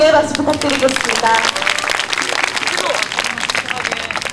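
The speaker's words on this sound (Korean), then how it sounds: "여러분 격려의 박수 부탁드리겠습니다" An audience at a 2007 taekkyeon battle tournament match between Kookmin University and Yangcheon-gu claps in encouragement. The applause is dense and sustained, and an announcer's voice carries over it at the start.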